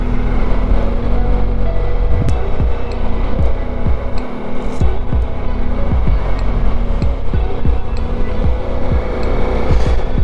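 Ducati Multistrada V4S motorcycle engine running while riding, a loud steady low drone with road and wind rush and occasional sharp ticks, continuous throughout.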